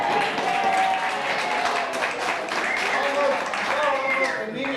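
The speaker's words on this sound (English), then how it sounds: "Let's not just hear some applause for that one" Audience applause called for by a presenter, a continuous wash of clapping at moderate volume with voices and chatter mixed through it.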